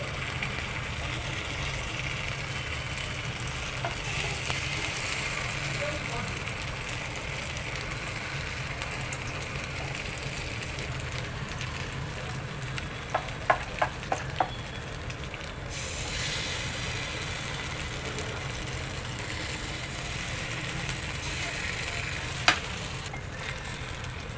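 Semolina appe batter frying in an appe pan on a low gas flame, a continuous close sizzle with a few sharp metallic clicks, heard alone.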